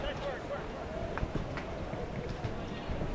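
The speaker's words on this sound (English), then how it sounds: "Too many players, too many horses," Polo horses gallop across the field, their hoofbeats producing soft, irregular thuds under steady commentary and crowd noise, moderately distant.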